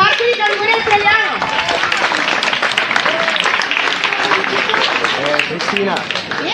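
Loud, sustained applause from an audience at a final theatre-course performance in Ottone, many hands clapping densely while voices, cheers and crowd chatter mix in throughout.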